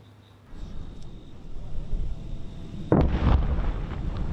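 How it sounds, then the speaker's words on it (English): Missile and artillery strikes exploding on Hamas targets in Gaza, heard as a rumbling low boom that swells into a heavier blast, loud and distant-sounding with a sustained roar afterward. "pummeling terror targets with missiles and artillery"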